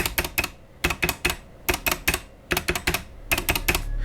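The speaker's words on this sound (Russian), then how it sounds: "Пробел при активном тайпинге неимоверно гремит. Выражается это не только в громком звуке, но и в цоканье самих стабилизаторов." Typing on an Akko 3087 mechanical keyboard, a budget tenkeyless board with unlubricated stabilizers, heard as bursts of rapid, sharp clacks separated by short pauses, with a loud rattling, clattering spacebar among the keystrokes, close and alone with no speech.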